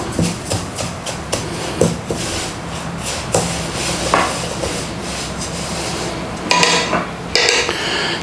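Toasted sesame seeds are turned gently in a warm pan off the flame, making a continuous dry rustling scrape with irregular clinks of a utensil against the pan, close and without speech.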